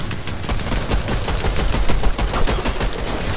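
Rapid, dense automatic gunfire in a Fortnite match, loud and continuous with overlapping bursts and sharp reports that barely pause over the full stretch.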